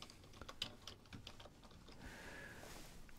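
Quick, light keystrokes on a computer keyboard as a search term is typed into a forum, a short run of close clicks followed by a faint steady hum.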